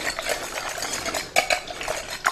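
A utensil stirs tartar sauce with black olives, dill pickle, parsley and lemon juice in a bowl, giving soft scraping and clinking strokes up close with a few sharper taps.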